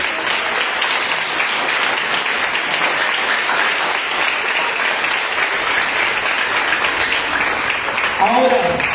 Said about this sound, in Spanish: Aplauda fuerte el amor de Dios.